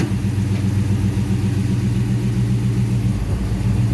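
Deep, steady rumbling idle of a 6.1 HEMI V8 swapped into a 1970 Dodge Coronet, heard up close and loud with a pulsing low throb as the car is put in gear, no voices.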